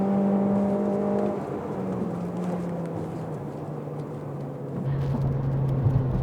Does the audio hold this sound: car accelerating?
yes